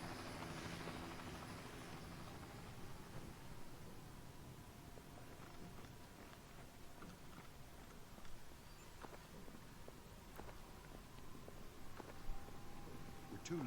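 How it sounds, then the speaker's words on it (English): Helicopter arriving in the video game Splinter Cell Double Agent, a steady distant rotor drone persisting throughout with faint footsteps and small clicks scattered over it. "Fisher, inbound helicopter"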